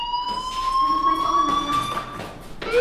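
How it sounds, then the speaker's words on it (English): Electronic fire alarm in the video game Life Is Strange, a steady high whine sounding continuously over faint background noise. "Hey, do you hear that fire alarm?"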